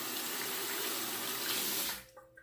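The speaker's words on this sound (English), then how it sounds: "Let me wash my hand off." Tap water runs steadily while a hand is rinsed under it during a wet shave with a Merkur Progress razor, a constant close splashing that cuts off abruptly near the end, leaving faint drips.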